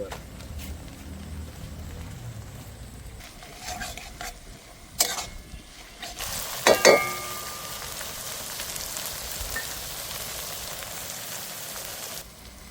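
Green and dry chillies with garlic paste and whole garlic cloves sizzle in a pan for a Bengali village chicken curry, a steady low crackle under stirring scrapes with a brief louder burst midway, no talking.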